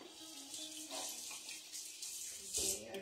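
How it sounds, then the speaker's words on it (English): Hands are rinsed under a kitchen tap while making enchiladas, a soft, faint stream of running water with a brief louder splash near the end, quiet and steady without talk. "And I'm gonna rinse off my hands."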